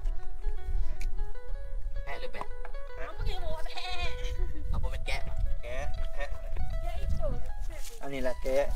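Goat bleating at a rural family home in Thailand, several wavering bleats rising out of a busy outdoor scene, mixed with people talking nearby.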